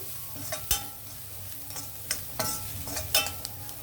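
Egg fried rice with coriander, pepper powder and spices is stirred in a pan with a faint sizzle, and a spoon scrapes and clanks against the pan at irregular intervals.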